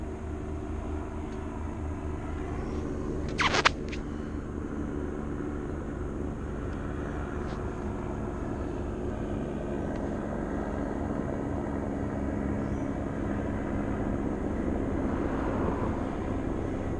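A medical helicopter drones steadily overhead at a distance, a low continuous engine rumble that stays even throughout with no voices.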